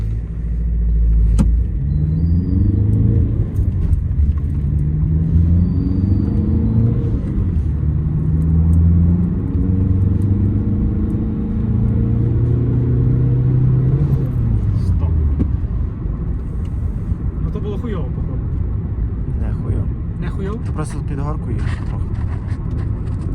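A Volkswagen Golf 5 accelerates hard, its engine note climbing in rising sweeps through the gears before easing off, heard from inside the car with a steady rumble and occasional voices.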